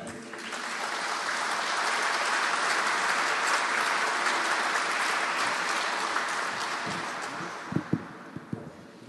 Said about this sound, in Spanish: a quien lo recibimos con un voto de aplauso